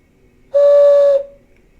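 One hand whistle is blown through cupped hands, a single clear, steady hollow tone lasting under a second, close and loud against a quiet background.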